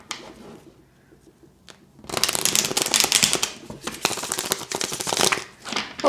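Tarot cards being shuffled in rapid, dense riffling bursts after a quiet start, close and fairly loud, with no talking.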